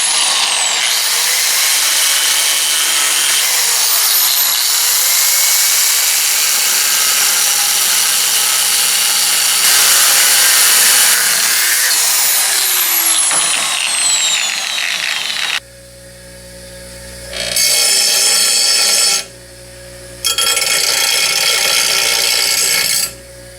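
A power tool cuts out a steel motor plate piece for a mini bike engine swap, with a long loud grinding whine followed by several shorter bursts separated by pauses, close and alone.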